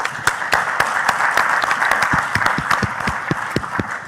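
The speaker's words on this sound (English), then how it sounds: "I'd just like to ask you for a final round of applause for the speakers we've just had." An audience at a fishing conference gives a final round of applause for its speakers, dense and steady clapping that holds at an even level for several seconds with no voices over it.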